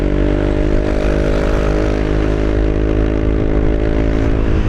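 A Yamaha Aerox scooter engine runs close and loud, a steady buzzing idle with a rich harmonic drone that holds level throughout, no voices.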